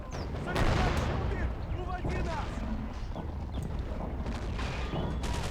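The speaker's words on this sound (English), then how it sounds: "And they're still firing at that IS-1." Scattered small-arms and machine-gun fire aimed at a Soviet IS-1 tank in the WWII strategy game Men of War: Assault Squad 2, steady crackling bursts over a dense battlefield din, with someone talking over it.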